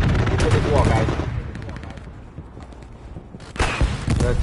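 Machine gun fire in the World War II shooter Hell Let Loose: rapid bursts of automatic shots with booming gunfire, loud and close at the start and end, quieter distant shots between.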